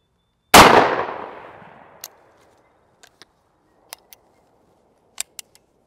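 A Taurus Judge Magnum revolver fires a 2.5-inch Hornady Critical Defense shot shell loaded with a .41 caliber slug and two .35 caliber balls. One sharp, loud report rings and decays, followed by several faint clicks and clinks.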